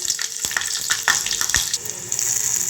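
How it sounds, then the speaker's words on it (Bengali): Five-spice seeds and two green chillies hit hot oil in a silver bowl on a gas stove, giving a steady, close, loud crackling sizzle with a few sharper pops scattered through. "তেলটা গরম হয়ে গেছে, এবার দেবো 5 ফোড়ন। তার সাথে দেবো 2টো কাঁচা লঙ্কা।"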